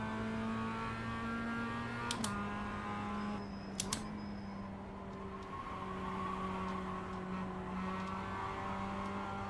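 Mazda race car in a racing game at Oulton Park, its engine droning steadily at moderate volume, with a few sharp clicks of gear shifts and pitch dips as it brakes and accelerates through corners.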